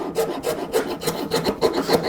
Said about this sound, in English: I usually grab a large round file, or I could even use one for chainsaws